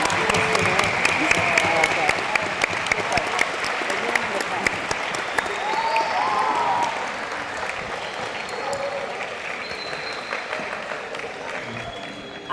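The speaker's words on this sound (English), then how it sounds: "let us conclude this presentation with a round of applause for our Toro Legends" A crowd at the 2018 Toro Legends ceremony gives a long, full round of applause that holds steady, then gradually softens, with occasional voices and cheers mixed in.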